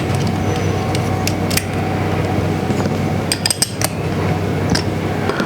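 Small metallic clicks and clinks of a coil being refitted onto a solenoid valve block ring out at close range in scattered bursts over a steady low background hum.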